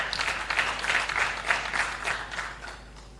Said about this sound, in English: I expected a big clap.